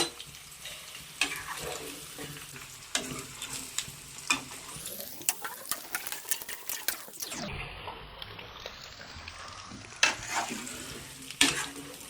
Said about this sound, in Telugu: ఇప్పుడు ముందుగా కాకరకాయ ముక్కలు వేపుకుంటున్నాను